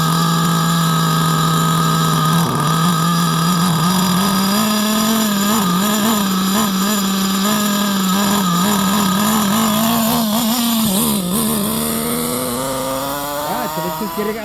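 An HPI Savage X 4.6 RC nitro engine revs hard under load, a loud, buzzing high-pitched whine that holds steady and then wavers and climbs as the throttle changes, heard up close.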